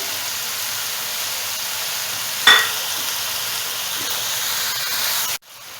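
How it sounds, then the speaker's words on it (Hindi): Chicken vegetable rice sizzling in a pan while salt and black pepper are mixed in, a steady soft hiss with one brief sharp scrape partway through, then a sudden drop near the end. "इसको अच्छे से मिक्स करेंगे और इसमें साथ ही हम डाल देंगे नमक और काली मिर्च"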